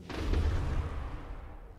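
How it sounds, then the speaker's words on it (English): Explosions in the video game Hollow Knight: a single loud, deep boom with a rumbling, crackling tail that fades over about two seconds, heard alone. "Explosions."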